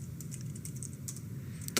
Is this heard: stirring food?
no